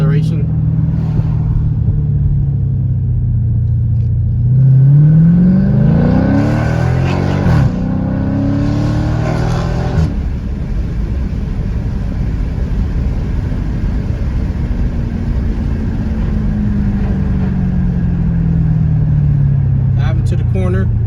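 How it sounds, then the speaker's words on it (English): A Dodge Challenger Widebody lowered on Eibach Pro-Kit springs accelerates on a test drive, its engine note climbing in pitch and then settling back to a steady drone, with talk heard over it. "a little acceleration."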